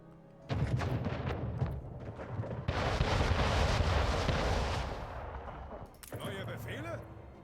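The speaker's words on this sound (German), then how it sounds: "Schiff unter Beschuss." Ship under cannon fire in the video game Anno 1800, with a rumbling barrage of booming shots and a long roaring wash of explosions lasting several seconds, followed by a short burst of game chatter.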